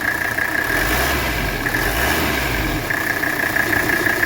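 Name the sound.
Mercedes 300SD engine idling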